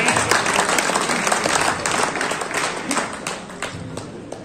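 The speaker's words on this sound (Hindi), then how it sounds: "आप सबसे चाहता हूं कि जोरदार तालियां हो जाए" Party workers at a Samajwadi Party meeting in Kiratpur applaud, a dense, lively burst of clapping with sharp individual claps standing out, gradually thinning toward the end.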